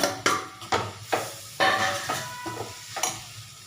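Chopped capsicum and onion frying in oil in a pan, stirred in a series of sharp scraping strokes about twice a second over a soft sizzle, close up with no talking.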